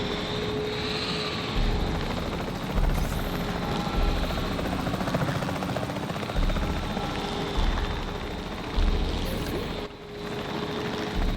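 A helicopter in Jurassic World Evolution 3 flies with a steady rotor thrum and engine drone, holding close and loud for several seconds, with faint pulses and a brief dip near the end.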